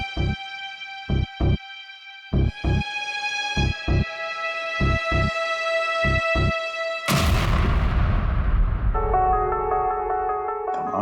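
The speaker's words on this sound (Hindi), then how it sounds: "धमाका" A sustained electronic tone with short rhythmic pulses, then a sudden loud boom of a laptop exploding that roars and fades, followed by a ringing tonal sting.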